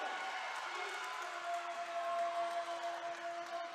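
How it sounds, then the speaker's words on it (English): Spectators at a women's college volleyball match between Lynchburg and Virginia Wesleyan make a steady murmur of cheering and applause from a distance, with a commentator's voice running over it. "Crowd is loving it."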